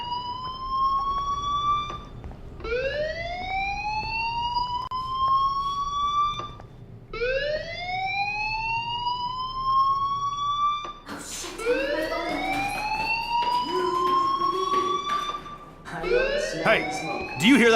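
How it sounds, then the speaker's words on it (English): Fire alarm in the video game Life is Strange 2: repeated rising electronic whoops, each sweep climbing in pitch and starting again, loud and continuous over a low background. "Hey, do you hear that fire alarm?"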